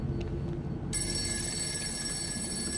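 A telephone rings inside an Exit 8-style subway station game set at Seoul Station, a steady electronic ring with sharp, sustained tones that starts suddenly and continues through the rest, loud over a low background hum.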